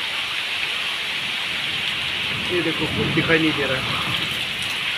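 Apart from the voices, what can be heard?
heavy rain and wind in storm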